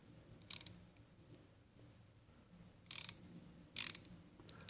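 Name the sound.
Snap-on ratchet freewheeling clicks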